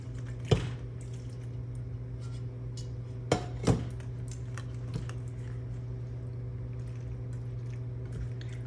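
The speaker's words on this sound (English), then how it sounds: "we can go ahead and add in our drained pasta." Drained pasta tipped into a pan for a pork sausage and roasted bell pepper dish, a few soft wet thuds and a clatter against the pan over a low steady hum, no talking.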